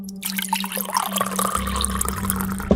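Water poured for drinking, a short trickling and splashing pour into a glass that fills and deepens in tone partway through, with steady low background hum and no speech.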